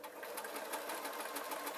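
A sewing machine stitches a t-shirt hem with a fast, even, continuous whirring rattle, close by and moderately quiet, running steadily without pauses.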